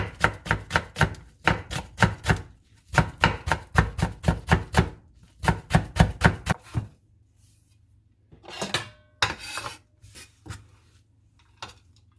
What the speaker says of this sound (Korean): 대파를 쫑쫑 썰어줍니다.